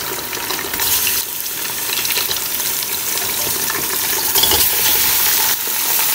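About two kilograms of chicken fries with onions in a large pot for haleem, giving a steady, loud sizzling hiss with slight crackles and no pauses.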